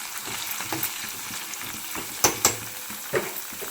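Ingredients for pulihora fry in a pan with a steady sizzle, broken by a few sharp scrapes and clinks from stirring.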